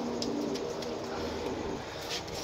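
Pigeons coo in a rooftop flock of about twenty caught birds, a low steady murmur of soft cooing layered with faint wing and cage noise, close and continuous with no talk.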